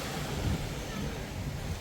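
Sea surf washes onto the beach in front of a Rayong hotel, a steady, broad rush of waves with a little wind noise throughout.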